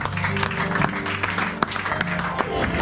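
Church congregation applauding together, a steady wash of claps mixed with tonal music or voices running throughout, fairly loud and close.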